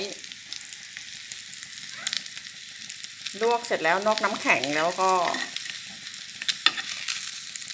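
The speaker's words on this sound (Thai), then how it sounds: "มีกระทะใช้ทอดเอา น้ำมันใส่ใส่ก้นกระทะไปหน่อยหนึ่งไม่ให้มันติด" German sausages fry in a little oil in a pan, giving a steady close crackling sizzle throughout while someone speaks briefly in the middle.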